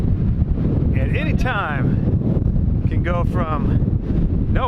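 Strong gusty wind on the Oregon coast buffets the microphone with a steady low roar, while people talk over it.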